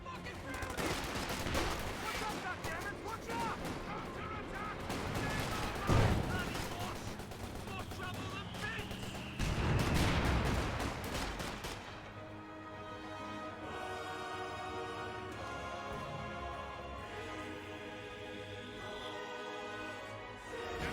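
Volksgrenadier small-arms fire in a Company of Heroes 2 battle, with continuous crackling bursts and scattered louder reports over a busy wartime mix of ambient combat noise and music.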